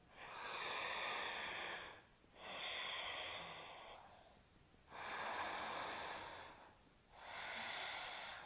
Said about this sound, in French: Donc ça, c'est la respiration Ujjayi, qu'on peut faire pendant toute la pratique.